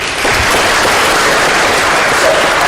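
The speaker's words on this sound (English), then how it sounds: "So, an applause on that, please." Loud, dense applause from a conference audience at a corporate leadership summit in India fills the space steadily, a continuous wash of clapping with no voices rising above it.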